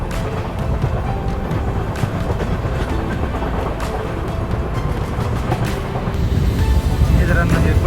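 A train moves past at a railway station, producing a loud, continuous rumble with faint rhythmic clatter that swells slightly toward the end. Faint voices may sit underneath.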